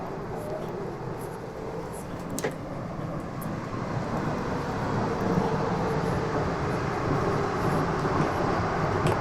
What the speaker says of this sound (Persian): و قطار هم داره همینجوری میره.